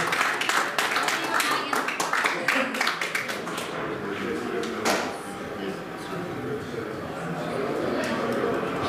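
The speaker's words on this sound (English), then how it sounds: "I think you'll find a deserved round of applause for our runner-up," Indoor audience applause at a snooker charity shootout honours the runner-up, with a dense burst of clapping at first that thins into scattered claps and room murmur, talk running underneath.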